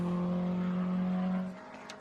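A Brabham BT8 race car drones past at the VIR SpeedTour finish, a steady engine note fading out toward the end, heard from a distance and fairly faint.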